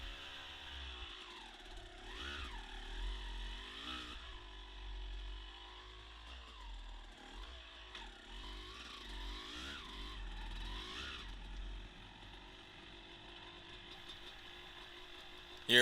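A dirt bike rides downhill through the woods, its engine rising and falling in repeated revs and throttle blips, moderately distant and fairly faint under wind and rumble.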